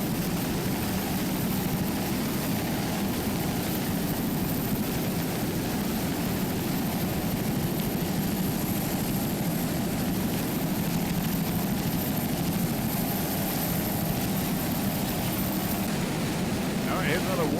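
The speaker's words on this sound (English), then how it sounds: "here's another Warlock F-149 Eraser, 28-foot Ultimate Warlock. It's powered by one 500-horsepower Mercury inboard" A 28-foot Warlock offshore racing powerboat with a 500-horsepower Mercury inboard engine roars steadily at a distance during an offshore race, a continuous heavy drone with a commentator talking over it.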